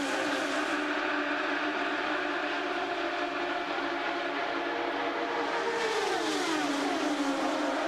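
IndyCar race cars lap at around 215 mph on the Chicago oval in a 2005 race, a continuous high-pitched engine scream from the passing field that holds steady and then drops in pitch as a car passes by.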